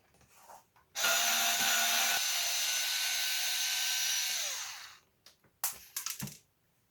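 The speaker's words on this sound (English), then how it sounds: "going to take the 4 screws out." A power screwdriver backs a screw out of a WestCreek Revenge guitar, a close, loud continuous whir lasting about four seconds before winding down, followed by a few light clicks and handling knocks.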